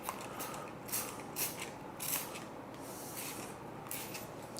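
Several short hissing sprays of quick detailer from a trigger spray bottle, each a brief bright burst, close and clear with no talking.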